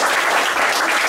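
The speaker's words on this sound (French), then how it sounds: "Donc vous pouvez aussi applaudir Alex Carlo." A crowd claps steadily at a fight weigh-in, the applause loud, dense and close, filling the whole short moment without talk.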